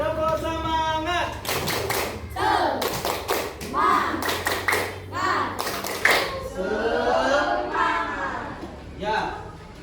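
Schoolchildren in a classroom clap a rhythmic spirit cheer in short bursts of loud, sharp hand claps, close by, mixed with children's chanting voices.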